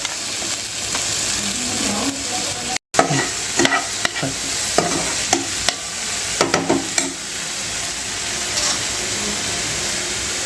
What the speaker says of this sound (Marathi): आलं लसूण मिरची आणि कोथिंबिरीचं जे वाटण केलेलं ते आपण टाकून घेऊ